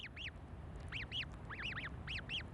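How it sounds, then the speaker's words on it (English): Snow goose chicks at Bylot near the Arctic Circle, freshly hatched, giving repeated high arched peeps in quick pairs and small clusters, soft and close over a low background hiss. "the snow goose chicks have just hatched"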